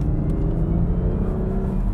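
A BMW 440i Gran Coupe driving in second gear gives a steady, close engine drone with a low rumble that holds evenly throughout, with no voices.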